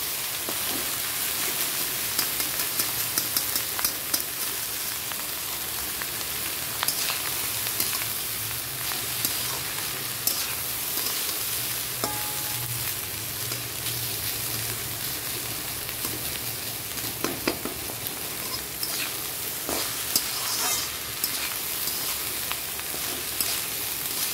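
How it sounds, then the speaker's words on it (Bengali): Cooked rice stir-fried in a pan for biriyani, giving a steady, dense sizzle throughout with scattered scraping and tapping of the stirring spoon, moderately close and uninterrupted by voices. "এর মধ্যে ভাতটা দিয়ে দিলাম, ভালো করে নেড়ে নিই।"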